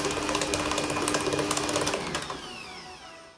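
A stand mixer whirs steadily while kneading yeast dough for loukoumades, a dense motor hum with a fast rhythmic knock that winds down and fades toward the end.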